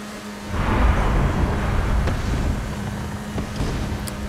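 Jet ski engine in the video game Far Cry 6, a loud rising roar as the watercraft starts off, settling into a steady throaty drone with water and wind rush.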